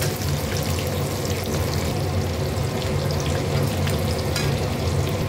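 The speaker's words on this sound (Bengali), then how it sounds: "এর ভিতরে নুন হলুদ দিয়ে আমি ডিমটাকে ফ্রাই করে নিচ্ছি" Steady frying sizzle of eggs with salt and turmeric in hot oil, loud and close, with a dense crackling hiss that holds evenly throughout and no voices.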